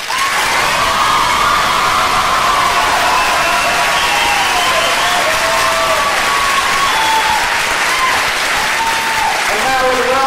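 Loud, sustained applause mixed with cheering and whoops from a speech-night debate audience at Modesto Junior College, voting for the affirmative side; dense and continuous through the whole stretch, with shouting voices rising over the clapping.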